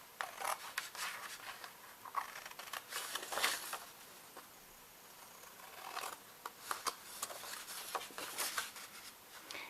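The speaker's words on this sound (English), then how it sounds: "So I'm just going to use my scissors." Quiet crisp snips and rustling as scissors cut paper tabs, a series of short sharp bursts with soft handling noise between them.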